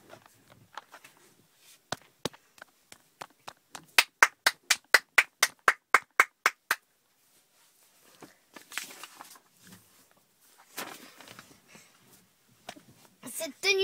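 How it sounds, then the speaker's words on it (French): A group of girls claps in a sparse, quiet room: a few scattered claps, then a crisp run of about ten evenly spaced close claps, followed by light tapping and shuffling with brief murmurs of voices. "les filles se mettent à applaudir"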